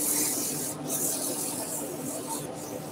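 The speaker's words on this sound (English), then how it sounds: "So we're down to 400 grit already." Fine 400-grit sandpaper rubs steadily against a turned wooden potpourri pot spinning on a lathe, a continuous close hiss with brief dips in intensity, no voices.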